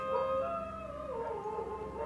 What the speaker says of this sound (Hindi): टकू की भौंकने की आवाज़